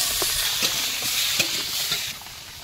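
Potatoes sizzle and fry in hot oil with onion, chili and tomato at an outdoor picnic cookout, a steady broad hiss with a few soft stirring knocks, close and fairly loud throughout.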